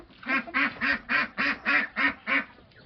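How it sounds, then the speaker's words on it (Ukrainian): A single duck on a farmyard homestead quacks in a steady run of eight loud, evenly spaced calls, close by and alone. "Одна качка крякаюча."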